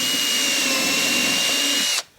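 A power drill bores a hole in the door of a small parrot nesting box, giving a steady high whine for about two seconds that cuts off abruptly.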